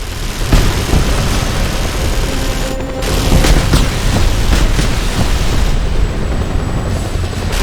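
Missile launch and blast in Just Cause 2, heard as a loud roaring whoosh over steady helicopter-like engine drone, with booming impacts and rumbling explosions running continuously.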